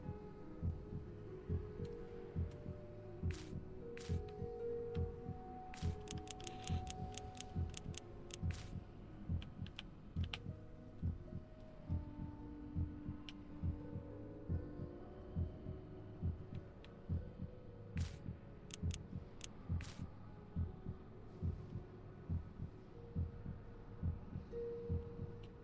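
In the PS4 horror game Song of Horror, a looping heartbeat effect pulses steadily and low beneath a droning ambience, joined now and then by bursts of faint high clicks.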